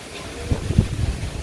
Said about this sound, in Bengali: আবার বাতাস হয়ে যাচ্ছে বাতাস একটা সরাই নিতেছে